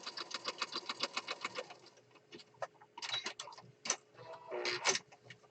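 A sewing machine stitches through junk journal pages in a fast, even run of mechanical ticks, then slows into scattered clicks and rustles of paper being handled nearby.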